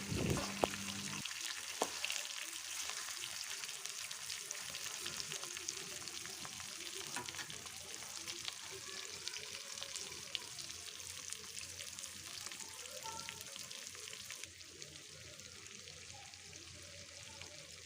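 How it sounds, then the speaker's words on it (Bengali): Steady, dense sizzling of fish (a fish head) frying in hot oil, crackling continuously and close up with no talking. "এখন আমি তেলের মধ্যে একটু ভেজে নেব"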